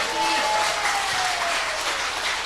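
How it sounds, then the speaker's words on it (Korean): An audience breaks into applause at a church gathering, a dense, steady burst of clapping that fills the whole short moment. "우리 힘찬 격려에 박수를 하겠습니다."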